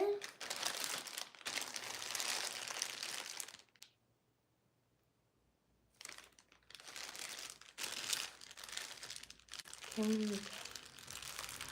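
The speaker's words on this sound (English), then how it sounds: "Let's take the plastic off of here." Plastic wrap peeled off a TYMO STYLUX hair styling tool, close loud crinkling and tearing in long bursts, broken by a few seconds of near silence, with a voice briefly heard near the end.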